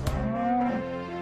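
A single low cow moo, fairly close and steady, ringing out alone for about a second.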